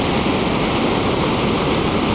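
Ocean surf at Sendai Shinko beach (Sendai Newport) on a low tide with modest waves, heard as a steady, continuous wash of breaking water close by, with no voices.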